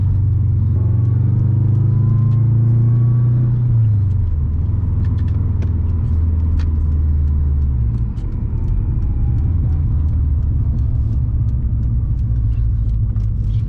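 Subaru WRX STI turbo engine rumbling steadily from inside the car while driving, its low drone dropping in pitch partway through as the driver downshifts, with a continuous loud road roar throughout.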